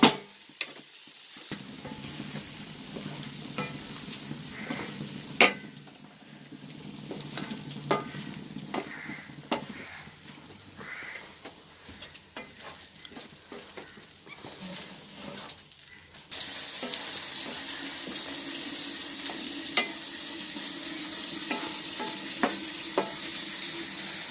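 Wooden spoon stirring mutton roast in a pan: repeated scraping knocks and clicks against a steady frying sizzle, close and fairly quiet, with the sizzle growing louder and brighter in the second half.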